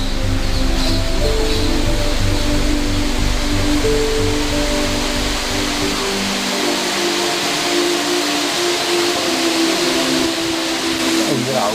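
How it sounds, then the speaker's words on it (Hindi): A perennial waterfall at the base of hills near a temple site gives a steady broadband rush of falling water. A low rumble fills the first half, and the roar continues evenly throughout. "ये झरने गिरे हुए हैं, ये अखंड झरने गिरते हैं"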